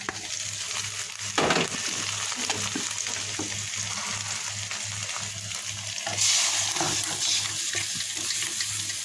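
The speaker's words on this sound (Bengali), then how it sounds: "এদিকে চিংড়ি মাছও কষানো হয়ে গেছে এখন আমি ঢেলে দেবো" Boiled bottle gourd is poured into a pan of sautéed prawns, bringing a steady sizzle with clinks of stirring and a sudden watery splash partway through.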